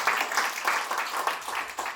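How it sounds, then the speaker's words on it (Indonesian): A church congregation claps for God during a sermon, steady moderate applause pulsing in waves, fairly close but not very loud. "Tepuk tangan buat Tuhan."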